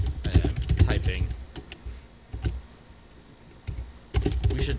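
Bursts of computer keyboard typing, close by, with a quieter stretch in the middle before the clatter picks up again; a voice may be faintly present.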